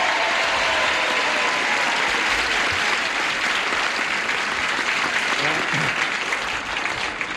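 Studio audience applause on a 1975 television game show, steady and loud clapping from a large crowd that fills the whole stretch without a break.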